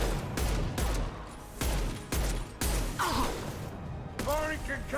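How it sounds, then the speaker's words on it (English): Concussive shot gunfire in the video game Mass Effect 2 comes as several heavy, booming blasts at irregular intervals, mixed with game sound effects and a voice speaking over them. "Firing concussive shot."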